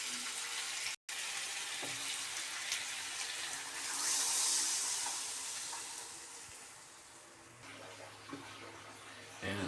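Broth poured into a pot of chicken tinola, a steady watery rush that swells in the middle and tapers off, with faint low hum underneath.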